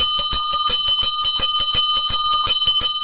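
Cartoon ice cream seller's bicycle bell rings in a rapid, loud, continuous series of bright metallic dings, evenly spaced and alone with no talk.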